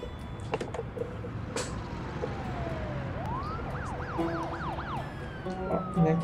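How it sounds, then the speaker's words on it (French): Ambulance siren from the video game SimCity, a wailing electronic tone rising and falling in quick repeated sweeps over a low city-traffic hum, moderately loud and close. "Il y en a qui s'est blessé, une ambulance"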